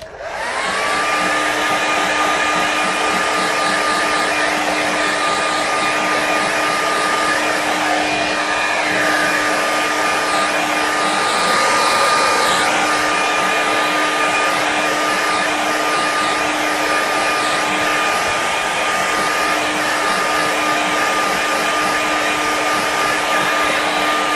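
A hair dryer blows over a small watercolour landscape painting, a loud steady whirring roar with a constant whine that runs unbroken for the full length, with no talking.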